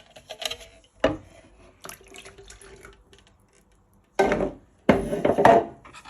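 Coffee and eggs splash in short bursts into a bowl of cake batter, with a couple of louder pours near the end and light clinks between them; no talking.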